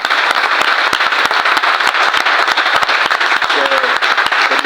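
A church congregation applauds continuously in praise at a gathering for engaged couples, with dense, steady clapping throughout and a few faint voices underneath.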